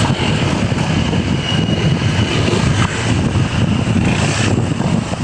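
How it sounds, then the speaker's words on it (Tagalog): Strong wind roars and buffets the microphone during a motorbike ride through a subdivision on a cool, overcast day, a loud, steady rushing noise with a low rumble underneath and no speech. "Lakas ang hangin na yun ah."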